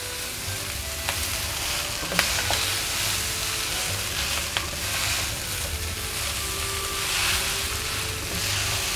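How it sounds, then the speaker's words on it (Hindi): Chicken vegetable spaghetti sizzling and frying in a pan over a low flame while being stirred and mixed, a steady close crackle with a few sharp clinks of the utensil against the pan. "अच्छी तरह मिक्स कर लें ताकि इसके साथ मसाला लग जाए, सारा बराबर हो जाए।"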